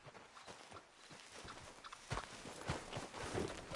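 Horse hooves clip-clopping at a steady walking rhythm in Red Dead Redemption 2, fairly close and continuous, with faint ambient game sound around them.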